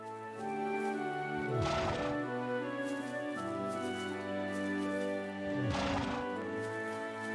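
In the video game Trails of Cold Steel, a horse gives two clear whinnies a few seconds apart, set against soft, sustained game music.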